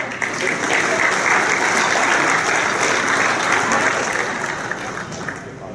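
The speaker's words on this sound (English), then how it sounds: "let's give a nice round of applause" An audience at an annual valor awards evening honoring firefighters applauds; thick, even clapping fills the whole stretch without a break, fading only slightly at the close.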